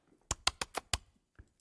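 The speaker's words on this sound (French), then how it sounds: "qu'est-ce qui se passe avec le clavier?" A computer keyboard gives five quick, sharp clacks in an uneven burst, followed by a fainter single click, close and dry in a quiet room.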